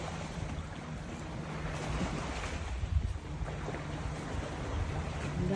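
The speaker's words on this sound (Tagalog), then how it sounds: "Ang daming boat ngayong araw guys." Many boats out on the water at Insel Au, heard as a steady wash of wind, waves and distant motor rumble, with no single close vessel standing out.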